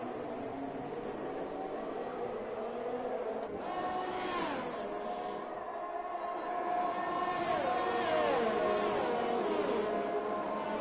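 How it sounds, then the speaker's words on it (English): Racing vans whine past in the background of a sim-racing championship race, their engines rising and falling in pitch, fairly faint and steady throughout. "Vans racing in the background"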